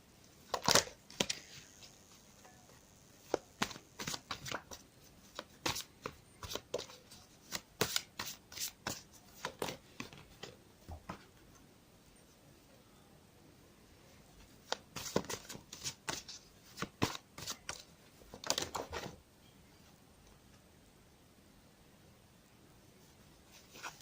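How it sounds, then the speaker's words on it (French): Oracle cards are shuffled and drawn by hand in bursts of crisp riffling and slapping, with quiet pauses between the bursts, close and fairly soft, with no talking. "je prends l'oracle des miroirs et je vais tirer des cartes complémentaires"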